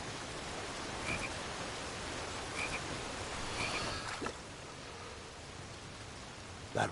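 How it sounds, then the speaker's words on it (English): Game frog croaking in King's Quest: a few short, repeated croaks over a steady hiss of ambient noise, moderately loud, with no talking. "Frog."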